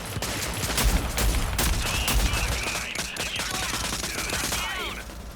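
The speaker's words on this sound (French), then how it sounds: "je tire à l'aveuglette" Gunfire in the shooter video game Rogue Company: dense, loud bursts of rapid shots and fusillades with in-game effects, running continuously throughout.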